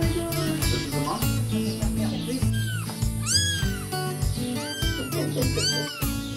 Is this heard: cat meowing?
yes